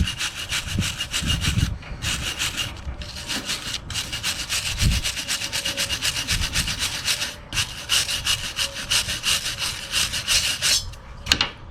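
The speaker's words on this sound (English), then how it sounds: "So the first thing I need to do is get out here with a wire brush and clean that area up." A wire brush scrubs the U-joint area of a Ford F600 drive shaft in loud, rhythmic back-and-forth strokes with brief pauses between bursts, close up and with no talking.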